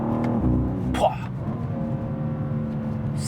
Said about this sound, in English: Such a fast car.